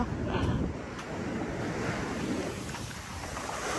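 Rough sea waves surge and wash continuously at a fishing spot, with gusts of wind buffeting the microphone throughout.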